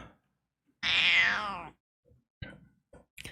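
A cat gives one long, loud drawn-out meow, followed by a few short faint clicks and small noises.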